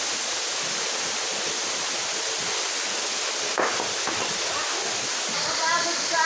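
Steady broadband rush of water pouring down at Uboo Falls, a continuous roar that fills the scene at close range, with a brief rustle partway through and faint chirps near the end.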